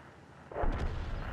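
A single tank gun shot from the World of Tanks video game, fired from the Object 257 heavy tank, lands as one fairly faint, booming blast that rolls into a low rumble and fades out.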